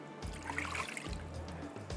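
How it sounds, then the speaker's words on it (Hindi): Water poured into coconut cake batter in a home kitchen, a close, soft trickling stream with a few brief splashing bursts, steady across the short moment with no talk. "इसके बाद इसमें डालेंगे पानी"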